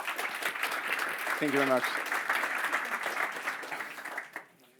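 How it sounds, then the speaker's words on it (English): Conference audience at a TypeScript tech talk clapping in welcome for the speaker, a sustained dense round of applause that fades out at the end as someone briefly speaks over it. "So give him a warm welcome with your applause."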